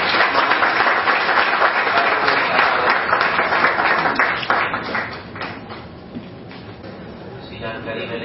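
An audience at a cartoon festival event applauds loudly, sustained clapping that gradually thins and fades toward the end.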